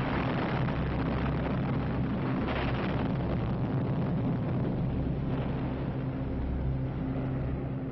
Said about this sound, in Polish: wbiła się w grunt i wybuchła